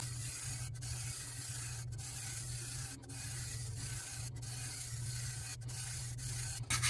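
Fingers rub sparkle dust onto a tumbler, giving a soft, steady close-up rubbing and brushing texture that is broken by brief pauses at regular intervals, with no talking.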